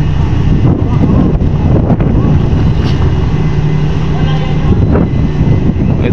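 Strong wind buffets a microphone aboard a boat at sea, a loud, gusting roar over low engine and water rumble, with muffled voices now and then.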